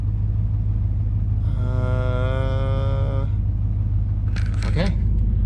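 A surplus Chevrolet Suburban engine idles with a steady, loud, low rumble throughout, while a voice sounds briefly over it and a light metallic jangle follows near the end.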